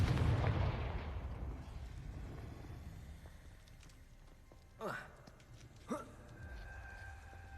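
A Confringo fire spell in Hogwarts Legacy booms out as a loud low blast that fades into a long rumbling tail, followed by two short sweeping whooshes.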